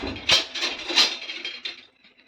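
A metal lid clatters onto a cooking pot of curd semiya, two bright clinks followed by softer rattling that settles and fades, close and alone.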